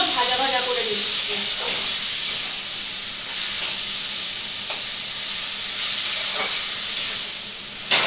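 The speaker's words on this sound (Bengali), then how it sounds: "এবার শাকগুলো ভাজা ভাজা করে দিচ্ছি" Bitter leafy greens, similar to neem leaves, added to eggplant already frying in oil, giving a loud, steady sizzle and hiss throughout with occasional stirring scrapes.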